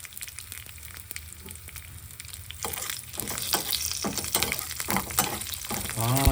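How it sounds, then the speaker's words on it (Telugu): Tempering spices with dried red chillies sizzle and fry in a pan, a continuous crackling hiss that grows louder partway through, with scraping stirs. "ఇది కొంచెం వేగనిద్దాం"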